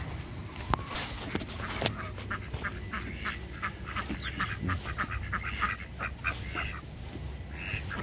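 Welsh Harlequin ducks quacking in their enclosure, a run of frequent overlapping quacks at moderate distance against a quiet outdoor background.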